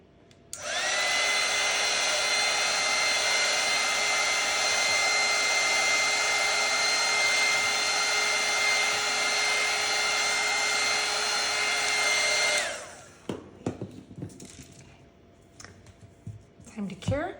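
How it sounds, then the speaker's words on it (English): A heat gun blows hot air over resin earrings made with flowers in jewelry bezels. The steady, loud whooshing runs for about twelve seconds, then cuts off and leaves a few faint clicks and handling noises. "Pull my heat gun again."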